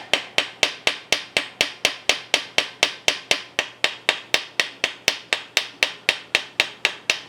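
Hammer striking hot forged metal to mushroom the head of a potato masher, a steady run of about thirty sharp ringing blows at an even rhythm, loud and close with no talk.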